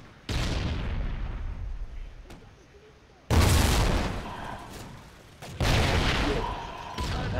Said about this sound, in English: They're throwing grenades at us, but they're not shooting.